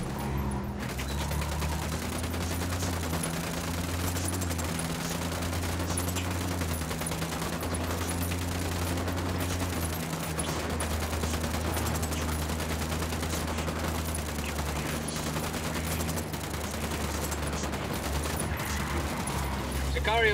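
Automatic weapons rattle in near-continuous bursts during a Ghost Recon Wildlands firefight, layered over a low engine drone, with radio voices calling out now and then.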